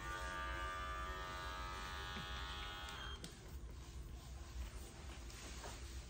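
Electric clippers grooming a matted Shih Tzu, a steady close buzzing hum that shifts pitch and roughens partway through as the blades work into the coat, with faint handling noise beneath.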